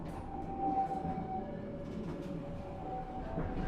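Harina premium-class passenger train of first-generation stainless steel carriages running on the Bandung–Surabaya line, a steady rolling rumble heard from inside with a faint sustained tonal whine and light rattles.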